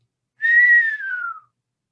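A person whistles in imitation of an owl's whinny call: one clear, close whistled note that holds steady and then slides downward, with silence on either side.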